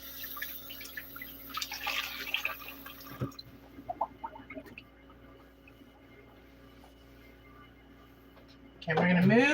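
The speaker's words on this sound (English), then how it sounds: "Let this water out. It's yucky now." Dirty water drains out in a home kitchen with soft intermittent gurgles and trickles, close by, while someone talks, ending in a louder rushing burst.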